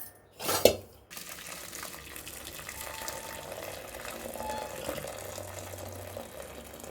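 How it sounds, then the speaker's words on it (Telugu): Starch water poured off boiled rice into a sink, a steady liquid splash and trickle close by after a brief sharp clatter of the pot at the start, no talking. "ఇప్పుడు గంజి వంపుదాము."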